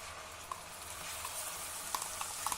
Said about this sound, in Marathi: आता मध्यम गॅसवर हे वाटण आपल्याला नीट परतून घ्यायचं आहे